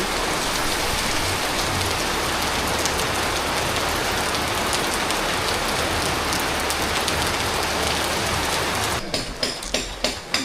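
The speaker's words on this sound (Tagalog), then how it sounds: "mukhang di titila yung ulan." Heavy, steady rain pours down continuously on Camiguin island, a dense hiss of drops on surfaces, with a few sharper taps near the end.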